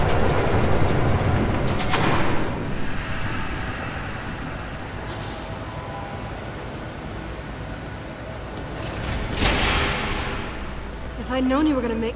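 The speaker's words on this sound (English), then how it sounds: "There's a train coming." In the Batman Telltale video game, a train rumbles past with a loud, steady rolling roar that fades slightly mid-way and surges again near the end, while a voice speaks briefly.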